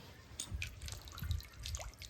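Water dripping and trickling off a hand that has scooped water from a still rock pool, outdoors in a rocky hill area; a few faint, close drips and splashes in quick succession, with no talking.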